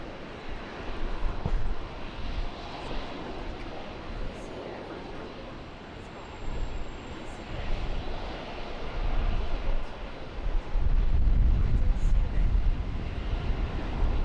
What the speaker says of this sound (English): Runway 19 right, clear to takeoff, velocity 1239.